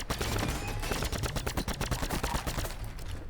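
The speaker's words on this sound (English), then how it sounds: "Someone else is shooting at us." Rapid bursts of automatic gunfire in a shooter video game, a dense, steady barrage of shots fired toward the player, loud and close for the whole stretch with no talking.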